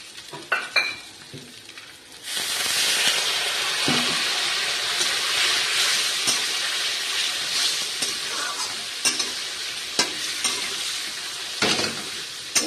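Rice being sautéed with a splash of water for niramish muri ghonto, a loud bright sizzle that flares as the water hits the pan, with spoon scrapes and taps stirring throughout and no talk.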